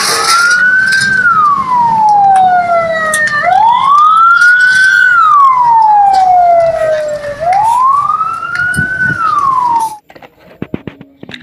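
A toy fire truck siren wails loudly, sweeping up and down in slow cycles for about ten seconds before cutting off into a few clicks.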